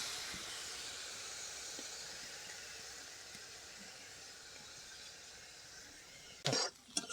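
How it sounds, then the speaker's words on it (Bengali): Shrimp frying in a pan with turmeric and salt: a faint, steady hiss of sizzling throughout, ending with a couple of sharp knocks. "এবার ভালো করে ভেজে নেব"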